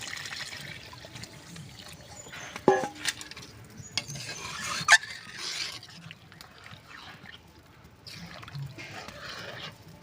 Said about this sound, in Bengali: জল দিয়ে দেব ডালে।